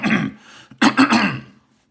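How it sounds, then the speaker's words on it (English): A person clears their throat twice, a short rough rasp followed by a louder, fuller one, close and alone before silence. "Let me clear my throat."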